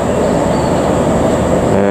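A passenger train rolls through Rancaekek station, its loud, steady rumble and rail roar filling the whole stretch up close without a break.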